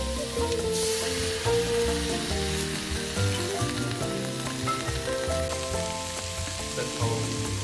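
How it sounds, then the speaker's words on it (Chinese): Cooking wine hits duck tongues frying in a wok for a spicy Sichuan dish, raising a bright, crackling sizzle that spits and pops steadily up close, with no voices. "加入料酒"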